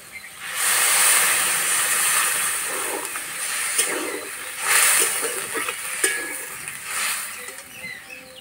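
Water poured into a hot pan of radish and radish greens in a Bengali home kitchen makes a loud, close steam hiss that surges several times and then fades.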